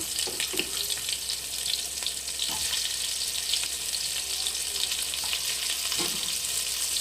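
Mustard seeds, cumin and onion sizzling in a pan for a wedding-style vegetable sambar, a steady bright hiss with occasional soft crackles and stirring knocks.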